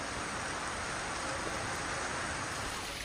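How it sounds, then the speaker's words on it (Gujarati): Steady rain falling in a Gujarat town and surrounding taluka since early morning, a dense, even hiss of drops with no breaks and no voices. "વહેલી સવારથી નગર સહિત તાલુકામાં વરસી રહ્યો છે વરસાદ."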